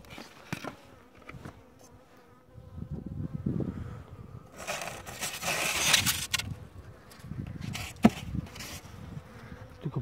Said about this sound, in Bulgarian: Вижда се, че пчелите отиват, че са в хранилката, взимат и течната храна.